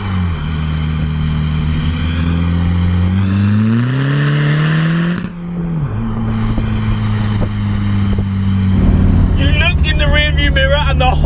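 Tuned 310 bhp VW Golf PD diesel hot hatch accelerating hard: a loud droning engine note climbs through the revs, drops briefly at a gear change, then pulls again with rising whine and turbo whoosh.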